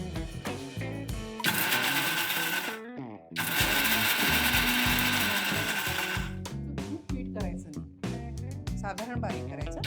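A kitchen mixer grinder whirs through ingredients for fasting appe in two long, loud bursts separated by a brief pause, while a voice talks before, between and after the grinding.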